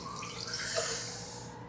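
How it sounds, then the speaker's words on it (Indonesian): Hot water runs steadily from a bathroom tap, a continuous close hiss with no voices over it. "Keran air panasnya hidup."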